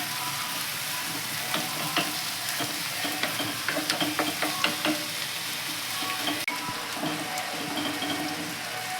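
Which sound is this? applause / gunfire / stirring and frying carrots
stirring and frying carrots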